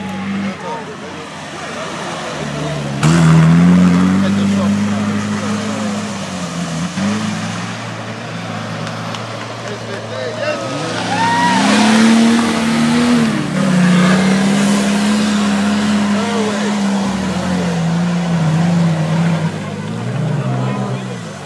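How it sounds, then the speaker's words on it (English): Several off-road vehicle engines rev and rise in pitch as they climb a hill at an off-road event in Croatia, droning steadily close by, with some voices faintly underneath. "As the next group of cars comes around, which I can hear coming in a moment"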